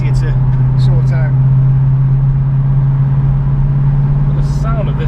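A 1964 Ford Mustang V8 engine droning steadily at a low pitch from inside the car while driving, a loud, continuous hum under a voice.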